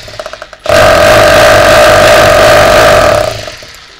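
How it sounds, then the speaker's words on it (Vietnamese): A Makita 949 rotary hammer drill switched to concrete mode starts abruptly after a few light clicks, then roars with a loud buzzing hammer whine before spinning down near the end. "Đây chức năng khoan thường, chức năng khoan bê tông."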